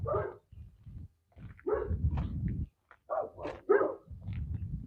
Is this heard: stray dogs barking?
yes